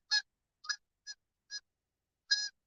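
Geese honking in a series of five short, separate calls spaced irregularly, fairly faint and clear against a silent background.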